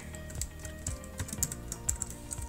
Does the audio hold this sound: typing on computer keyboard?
yes